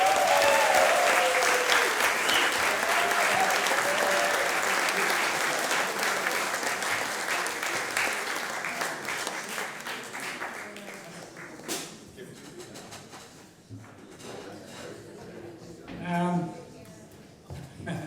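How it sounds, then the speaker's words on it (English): An audience at an album release concert claps and cheers loudly after a set of songs, then the applause thins out and fades as a voice begins speaking. "thank you for cheering us on through this first set of songs"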